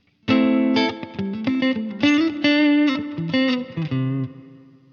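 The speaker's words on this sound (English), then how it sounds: "And then our spring reverb." Guitar played through the Line 6 Helix spring reverb effect at stock settings, a quick run of plucked notes and chords with a bright, splashy tail, close and without talk.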